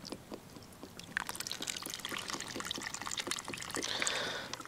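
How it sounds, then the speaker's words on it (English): Beef broth pours into a pot of short ribs being braised, giving a steady, close liquid splashing and trickling that builds slightly toward the end, with no talking. "So now we're going to add the beef broth."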